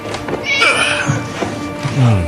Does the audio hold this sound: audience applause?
no